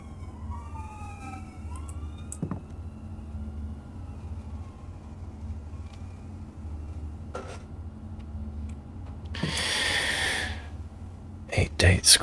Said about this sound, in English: I think there's a fire truck going by.